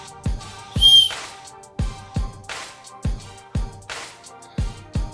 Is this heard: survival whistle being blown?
yes